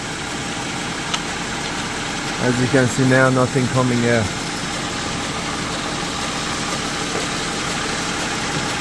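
An Audi Q idles steadily with a low, even engine hum that runs through the whole stretch while its transmission fluid is being changed, and someone talks briefly over it partway through.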